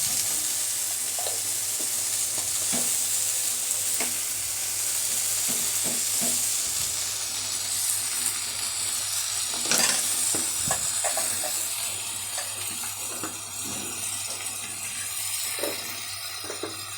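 Chili and cumin powder frying with spices for a village-style tengra fish curry with potato and stems: a continuous close sizzle broken by scattered scraping and stirring knocks, loudest midway.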